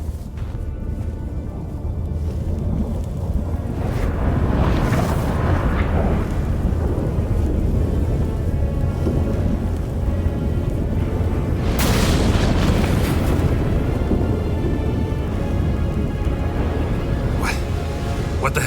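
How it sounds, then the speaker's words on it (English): Storm in The Witcher 3 with deep booming thunder rolls and a dense roar of wind and rain, loud and sustained, several heavy surges rising over the constant noise. "That a storm?"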